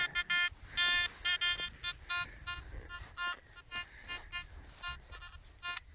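Repeated electronic beeping tones from a metal detector, pulsing on and off in a steady pattern over faint background rustling.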